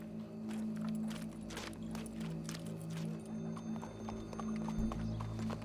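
Horse hooves clip-clop at a walking pace in a Western video game, with an occasional whinny, over a low steady hum of the game soundscape and no speech.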